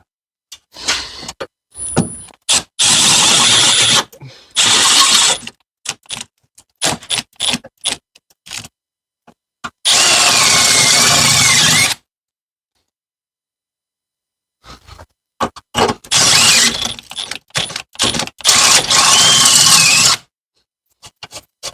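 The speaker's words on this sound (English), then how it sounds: "You have to drill out the excess" A power drill whines in several bursts, some long and steady, others short, separated by pauses and clicks, loud and close, drilling out a nut during a Jeep Patriot rear sub-frame replacement.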